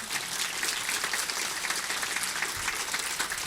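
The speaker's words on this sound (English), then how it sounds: "So can we give them a quick round of applause?" Dense, steady applause fills a conference hall as a business event audience claps for its sponsors, sustained throughout without a break.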